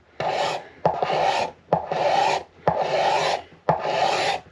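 A 1937-style Martin D18 guitar neck being shaved by hand on a bench, five long rasping strokes in a steady rhythm, each starting with a sharp bite and fading out, close and loud with no talk.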